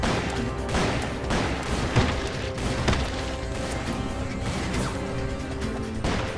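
Bursts of gunfire and sharp impacts crash through a loud, busy Call of Juarez game scene, coming in irregular volleys without speech.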